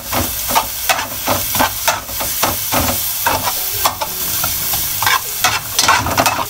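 Garlic fries golden brown in a pan for squid adobo, a loud close sizzle and hiss broken by repeated scraping stirs and taps of a utensil, with no one talking.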